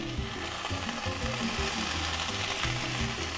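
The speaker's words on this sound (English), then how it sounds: "Time to check the hash browns and give them a turn over." Hash browns frying in a pan, a continuous close sizzle with a low hum underneath and soft scraping as they are turned over, no talking.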